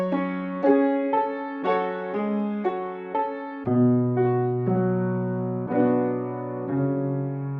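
Chopped piano sample in a trap beat, playing sustained chords and then dropping into a halftime automation that slows and lowers the pitch, with no voices over it.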